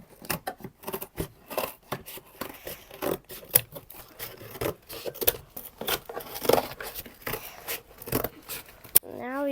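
Scissors cutting through a cardboard box, with irregular snips, scrapes and crinkling handling noises coming close and fairly quiet in uneven bursts.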